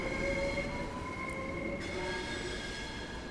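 A long Gatwick Express train on the London Victoria to Gatwick run in Train Sim World 3 hums with a steady low rumble and faint tonal whine, continuous and moderately quiet.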